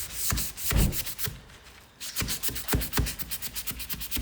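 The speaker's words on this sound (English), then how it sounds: "It's a nylon-y type pad, and it's got actually a very fine grit built in." A nylon abrasive pad with fine built-in grit scrubs over wooden boards inside a community hall. The strokes are close and loud and come in a quick back-and-forth rhythm, with a short pause partway through.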